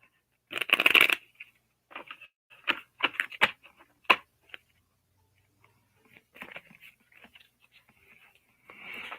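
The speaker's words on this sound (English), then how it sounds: "I am going to shuffle this deck." A tarot card deck being shuffled by hand, crisp riffling bursts and flicking card snaps coming in irregular clusters with short pauses between, close and fairly loud, with no talk.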